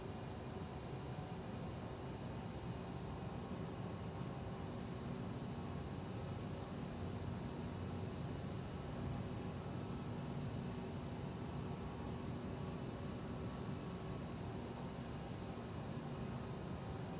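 An airliner's jet engines in a flight simulator game hold a steady, unbroken broadband roar with faint tonal whine, constant in level throughout and with no talk over it.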